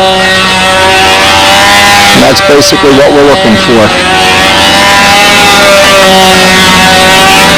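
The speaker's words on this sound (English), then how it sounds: "You can hear the motor run" A Jett 60 glow engine with a sealed bearing and tuned pipe header runs steadily in a Spitfire model airplane, a sustained harmonic whine throughout, with someone talking over it in the middle.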